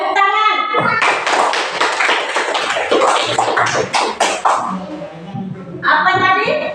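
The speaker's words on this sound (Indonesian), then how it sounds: "Tepuk tangan." Children clap together in a classroom, a loud stretch of dense, ragged hand claps with some thumps, briefly bracketed by speech before and after.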